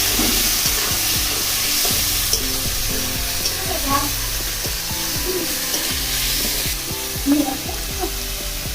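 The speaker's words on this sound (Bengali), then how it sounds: "বন্ধুরা পেঁয়াজ আদা রসুনটা ভালো করে ভেজে নিব।" Onion, ginger and garlic paste sizzles steadily in hot oil, a continuous close crackle broken by occasional scraping stirs, with no voices.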